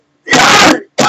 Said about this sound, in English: forgive me on my coughing.